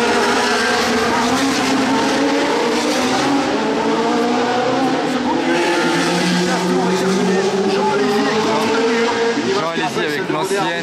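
Ferrari historic Formula 1 car once driven by Niki Lauda, racing at the Monaco Historic Grand Prix, a loud continuous engine wail rising and falling in pitch as it passes, with a commentator talking over it.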